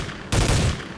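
A grenade explodes in the video game Soldier of Fortune II: a single loud blast hits abruptly and is followed by a heavy, rumbling burst that fades slowly.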